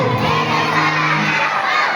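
A crowd of children shouts back loudly in unison at a storytelling session for kids, a sustained burst of young voices that holds strong before tapering slightly.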